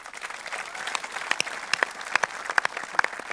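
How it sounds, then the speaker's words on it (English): An audience of festival goers at an outdoor GAMA festival Q&A gives a round of applause: dense, steady clapping from many hands with sharper individual claps popping out, fairly distant and sustained throughout. "So please give yourselves a round of applause as well."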